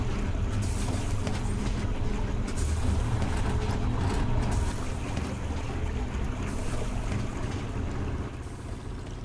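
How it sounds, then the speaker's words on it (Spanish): Water pump machinery in the video game Silent Hill Homecoming gives a steady, loud, rumbling churn with a broad watery hiss that runs unbroken throughout, easing slightly near the end, with no talking. "Vale, está bombeando el agua."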